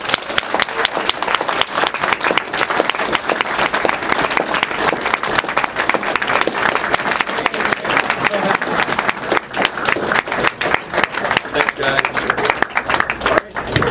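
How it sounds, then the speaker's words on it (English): A convention audience at Midwestria 2012 applauds a writer after an interview, a sustained, even roar of many hands clapping for about fourteen seconds with faint voices mixed underneath. "I think a round of applause for Mr."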